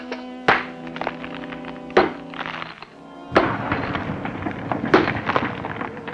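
Heavy thunks of a pick striking hollow ground, three sharp blows about 1.5 seconds apart, the last breaking through with a crumbling, rattling collapse.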